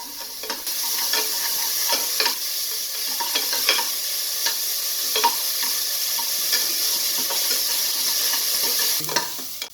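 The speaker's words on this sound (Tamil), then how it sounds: "ஆனியனை பொன்னிறமாக வதக்கணும்." Onions sautéing in a pan while preparing mutton kurma, a steady close sizzle and fry with repeated scraping stirs throughout, no talking.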